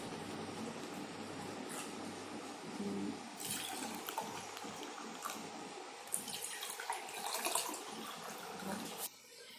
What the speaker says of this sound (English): Now let's fill the water. Let me take half glasses of water.